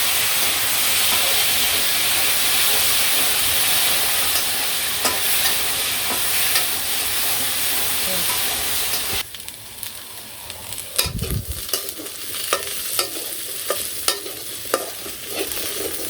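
Fish frying and being stirred in a pan, a steady loud sizzle and steam hiss that drops back partway through, followed by scattered scraping stirs against the pan in a village kitchen.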